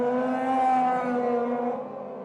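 Autocross race cars on a track at Vila Nova de Foz Côa, a sustained engine drone with a steady pitch that holds loud and fades slightly at the end, no talk over it.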